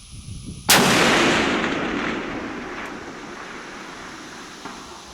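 A Christensen Arms .338 Lapua rifle fires a single loud, sharp shot at a long-range outdoor target, followed by a long rolling echo that fades over several seconds.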